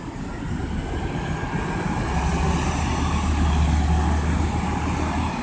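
Steady low rumble of a train rolling past, with a droning hum that swells midway and continues without pause.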